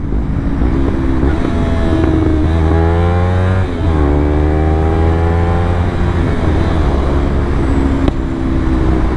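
A Yamaha R3 motorcycle engine roars loud and close at full throttle, its pitch sweeping up and down through repeated revs.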